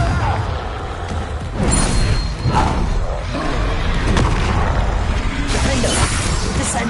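Confringo blasting spells burst repeatedly in Hogwarts Legacy, dense crashing booms and whooshing impacts layered over continuous game noise, with a loud cluster of hits midway.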